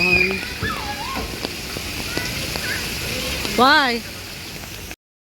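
Rain falls steadily at a private pool in a rainforest park in Pasig, a continuous close wash of drops and splatter while people talk over it.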